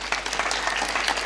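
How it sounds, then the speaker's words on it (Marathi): An audience at a Marathi kirtan gathering claps loudly together, producing a dense, full burst of applause with no voices over it. "आपल्या हाताने एकदा जोरात टाळी वाजवा"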